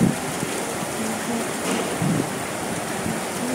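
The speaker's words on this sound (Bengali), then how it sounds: "দেখেছো কত জোর বৃষ্টি হচ্ছে" Heavy rain pours down in a dense, steady hiss, close and continuous with a low rumble underneath.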